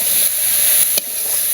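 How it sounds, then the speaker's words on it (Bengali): Food frying in a pan in a village kitchen, a loud, steady close-up hiss with one brief crackle near the end. "এটা ভাজতে হইব ভালো করে বাইরে"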